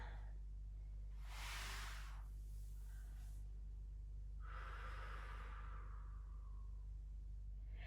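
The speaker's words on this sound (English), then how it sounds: "Breathe in. Breathe out." Deep yoga breathing, close and clear: two long, airy breaths, each a drawn-in inhale easing into a slow exhale, with quiet pauses between them.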